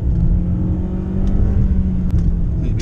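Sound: MG HS car accelerating in second gear

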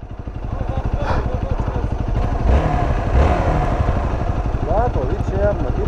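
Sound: Hero Xpulse motorcycle with knobby tyres

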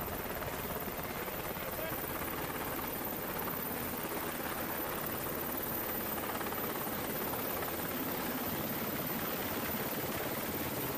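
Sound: helicopter

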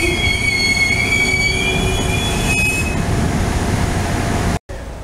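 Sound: train wheels squealing

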